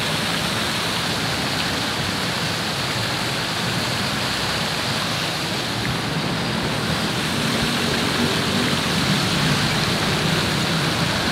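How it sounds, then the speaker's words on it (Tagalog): A water fountain in a Marikina city plaza splashes steadily, a dense, continuous rush of falling water that stays even and loud throughout, with no voices. "Dito tayo ngayon sa harap ng fountain."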